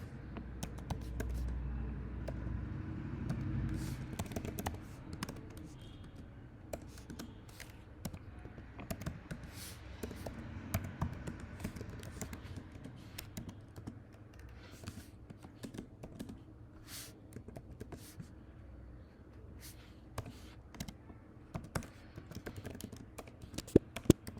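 Steady, rapid clicking of computer keys as C program code is typed, close and fairly quiet, continuing with irregular bursts and no voice.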